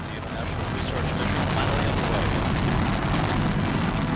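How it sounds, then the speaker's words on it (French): Space Shuttle Columbia lifts off from its launch pad with a continuous, roaring, crackling rumble that holds steady throughout, while a narrator speaks over it. "la navette Columbia décolle de son pas de tir"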